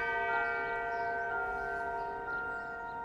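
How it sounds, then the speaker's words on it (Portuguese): Manufactured clock chimes ring out like church bells, holding steady, sustained tones at even loudness with no voices throughout. "ficamos presos aos carrilhões dos relógios manufaturados"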